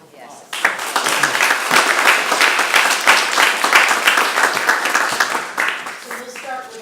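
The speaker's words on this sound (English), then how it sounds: "I think we should give them another round of applause" Audience applause after a presentation at a public meeting, a dense sustained round of clapping that lasts several seconds, fades near the end and gives way to a voice.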